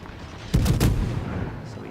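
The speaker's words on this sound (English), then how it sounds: "So here we go, first salvo of game." Naval gun salvo fired from warships in World of Warships: a single heavy multi-gun blast of several near-simultaneous booms, loud and close, then a rumbling decay.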